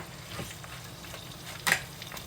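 Liver added to a pan with hearts and local ghee fries with a faint, low sizzle. A few soft stirring scrapes and one brighter clink rise above it.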